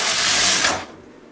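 A Bond knitting machine carriage slides across the needle bed in one quick pass, a close clattering mechanical rattle that cuts off abruptly, followed by quiet.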